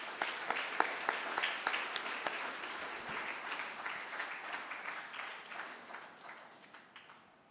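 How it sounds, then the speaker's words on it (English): Applause at an academic awards and seventh grade graduation ceremony honours frontline heroes, a fairly quiet, distant crowd clapping steadily with a few sharper claps early on, tapering off gradually. "I'd like you all to please join me in giving them a well-deserved round of applause."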